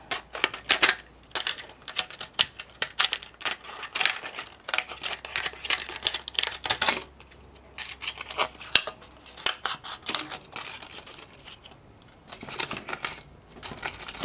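Sharp, repeated snips of scissors cutting pendant shapes from a plastic water bottle, close and fairly loud, with irregular clusters of crisp clicks and crinkles across the whole stretch and no talking.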